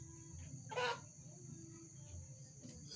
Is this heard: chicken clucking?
yes